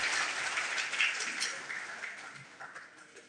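Applause breaks out from an audience at a chairman's event in a hall as the microphone is handed over, a steady dense clatter of many hands that stays fairly loud and slowly thins toward the end.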